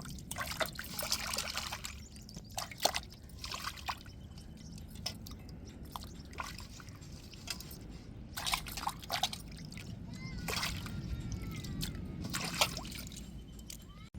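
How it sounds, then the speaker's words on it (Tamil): Water trickles and splashes in a steady flow, with occasional clinks and drips, fairly close and without talking, as water is poured into a pot of fish for cooking. "இப்போ தண்ணி ஊற்றிக்கிட்டாச்சு"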